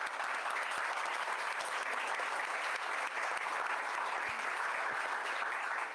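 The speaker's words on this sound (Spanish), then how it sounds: "querida audiencia, démosle un fuerte aplauso." Steady, even audience applause at an academic seminar on administrative responsibilities, a continuous dense clapping wash of moderate loudness lasting the whole stretch.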